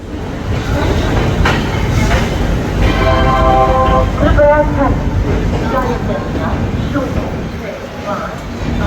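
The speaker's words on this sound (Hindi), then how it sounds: "सामने तेलंगाना एक्सप्रेस को फिर एक बार ओवरटेक करते हुए" A CR Rajdhani Express rolls through Jhansi station alongside the Telangana Express, with a steady loud rumble of wheels and carriages and faint tonal squeals mid-way, under a voice talking.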